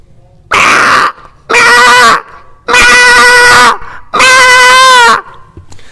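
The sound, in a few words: voice imitating a goat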